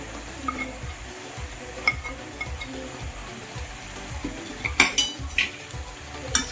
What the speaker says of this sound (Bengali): মিট মশলাটা দিয়ে ভালো করে একটু মশলাটা কষিয়ে নেবো